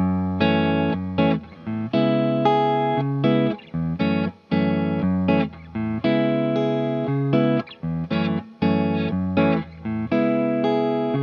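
Acoustic guitar plays the A section chords of a song in short rhythmic bursts with brief gaps, a full, sustained tone with effects, no voices.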